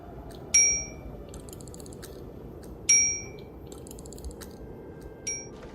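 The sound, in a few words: reception desk bell ringing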